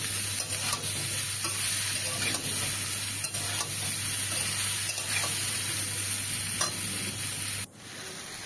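Turmeric and spices fry in hot oil in a pan for jackfruit curry, a loud, constant sizzle with stirring scrapes that cuts off abruptly near the end.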